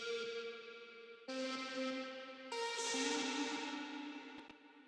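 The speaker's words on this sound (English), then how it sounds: "Then I made these, I would say vocal chop kind of things" Heavily processed vocal chops cut from a pop song's vocals form a sustained, echo-drenched synthetic tone that steps up in three blocks, each brighter and denser than the last, with no speech over it.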